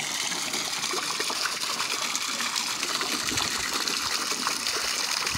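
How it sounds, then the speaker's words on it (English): Water from a backyard pond waterfall runs and splashes in a steady, continuous rush, close and even throughout with no voices. "So there's always sound of running water everywhere."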